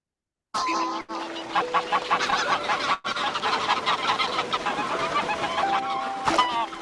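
Geese honking in a busy flock, a steady stream of overlapping nasal calls and clucks lasting several seconds with a brief gap partway through.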